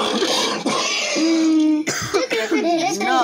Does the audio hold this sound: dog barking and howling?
no